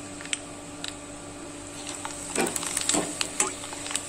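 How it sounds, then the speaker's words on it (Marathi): Potato wafers fry in oil with a faint, steady sizzle and a few soft crackles and scrapes partway through, heard close but quiet, with no talk. "मी अजून एक दोन वेपर्स तुम्हाला तळून दाखवते"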